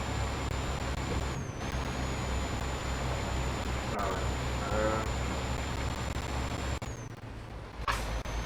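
A Scania R380 truck loaded with sand climbs a hill at early evening, its engine droning steadily with a high whine on top and a brief hiss near the end, heard from inside the cab.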